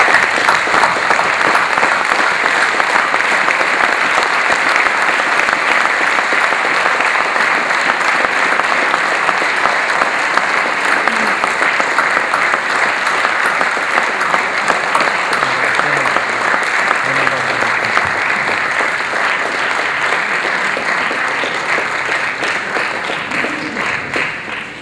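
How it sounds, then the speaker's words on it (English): Sustained, loud applause from an audience welcoming the Indian Ambassador to Qatar at a formal event, steady dense clapping throughout with no break. "Please give her a big round of applause."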